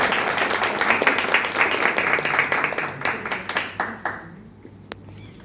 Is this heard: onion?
no